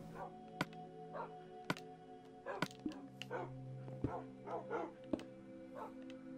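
Dogs barking in Minecraft on Xbox One around a small dog house, several short separate yaps spaced through the scene over a steady low game hum, with no talk over them.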